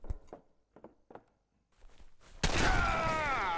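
Gunfire in the video game Dead Island: a few soft thumps and footfalls, then a loud sudden burst at around two and a half seconds that rings on with a whining, wavering tail.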